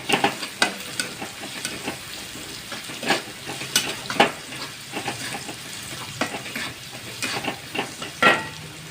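Crushed garlic added to onions frying in a pan, with continuous sizzling broken by repeated scraping stirs of a spoon at an uneven rhythm, close and fairly loud.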